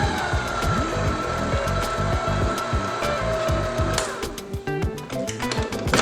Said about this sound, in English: turn on the mixer.